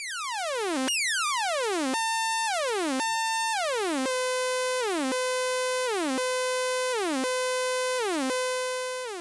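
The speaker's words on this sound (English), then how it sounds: "as I reduce source 2 down, you'll hear that the LFO is truncated at a certain level." Equator2 synthesizer oscillator playing repeated pure sine tones that sweep downward in steps, then hold flat at a truncated floor as LFO modulation is clipped. The pattern repeats about nine times in an even rhythm, loud and clean with no voice.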